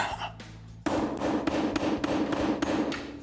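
Hammer blows strike a nail repeatedly at a steady rhythm, close and loud, a quick series of sharp metallic knocks with no talking.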